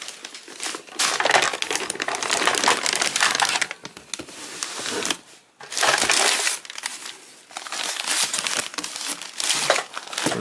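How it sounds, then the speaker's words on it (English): Surplus gun parts and magazines being unpacked from a cardboard box: loud, close crinkling and crushing of packing material in long continuous bursts with brief pauses, no talking. "We're just going to get all this out of the box."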